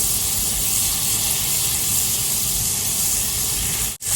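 A full stick of butter melting in a hot pan gives off a steady, loud sizzling hiss, unbroken until a brief dropout just before the end.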